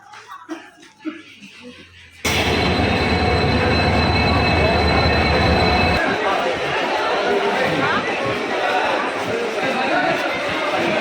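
At a railway station, a train rolls in loud and close with a dense rumble, clatter and high squealing wheels, beginning abruptly after faint background chatter, with people talking nearby.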